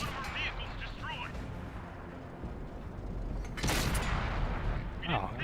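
Tank cannon fire and shell hits in World of Tanks come through as heavy booms and a sharp loud blast near the middle, with metallic clanks, under someone talking throughout.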